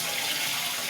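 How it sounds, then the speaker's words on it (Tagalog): Tap water runs steadily into a container for rice washing, a continuous broadband splash and hiss with no pauses, close by and fairly loud. "Isang hugas lang ako sa bigas."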